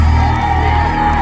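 Spectators roar and cheer at a tug-of-war match involving the Hercules Vembayam team, a steady unbroken wash of crowd noise from many voices at once.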